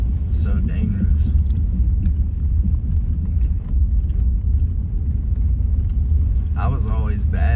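A car rolls along a snowy road, a low steady rumble of tires and engine filling the cabin while a person talks over it, a few faint clicks and rattles mixed in.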